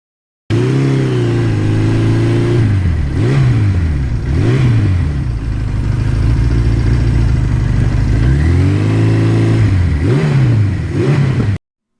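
A Suzuki GS1100E motorcycle engine runs close by on a ride, its steady mid-pitched drone rising and falling through several revs and gear changes, loud and continuous with no talk.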